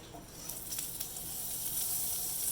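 Butter sizzles in a hot saucepan just after morel mushrooms are removed, a close, steady hiss that swells slightly as it goes on.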